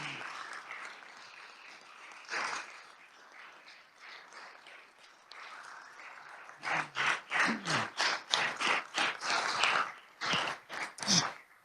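Guests in a Senate chamber receive a round of applause, which begins softly and scattered and then swells into fuller, rhythmic clapping that continues to the end.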